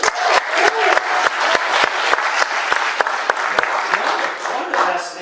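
An audience gives a round of applause at a speaking event, with crisp, fast clapping that is loud and close, many individual claps standing out amid the steady rattle.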